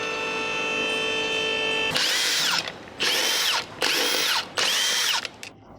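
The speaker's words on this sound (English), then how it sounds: "We have the 21mm socket to loosen the lug nuts" A power tool with a 21mm socket loosens the lug nuts on a Nissan: a steady whirring run, then four loud sharp impact bursts in quick succession, close and clear.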